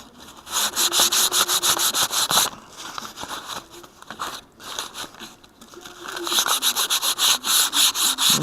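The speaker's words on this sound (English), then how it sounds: "I'm just going to take this and sand this down" Repeated back-and-forth scratchy rubbing of hand sanding foam for an RC plank wing in quick rhythmic bursts, pausing briefly twice before resuming.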